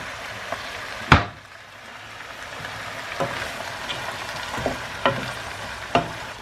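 Meat stew with fresh coriander frying in a pan, a steady soft sizzle with a few sharp clacks and scrapes of stirring scattered through, close and alone.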